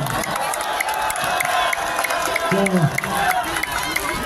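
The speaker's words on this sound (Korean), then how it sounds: "국민의원님께 다시 한번 박수 부탁드립니다" A crowd at a Korean Democratic Party candlelight rally claps and cheers, a dense wash of clapping with shouts rising above it.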